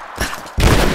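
Gunfire in the video game Rise of the Tomb Raider, a quick loud close burst of shots followed by a heavier blast that fills the short moment.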